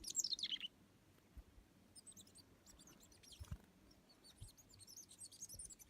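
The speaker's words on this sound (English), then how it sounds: "that was a beautiful little bird. What kind of bird was that?" A small wild bird chirps outdoors in quick bright bursts. One clear call comes at the start and fainter twittering comes and goes over soft background noise.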